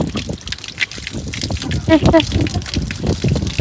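Water is poured and splashes during a little girl's bath, trickling and sloshing close by in uneven bursts while people keep talking over it.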